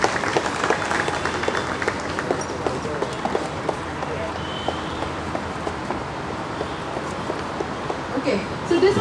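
An audience applauding after a fire extinguisher demonstration at a student mock drill, a steady spread of clapping with a voice speaking over it.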